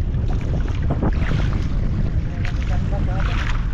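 Steady wind buffets the microphone with a constant low rumble on the coast near a sandbar in Palawan, and faint voices and water sounds sit underneath.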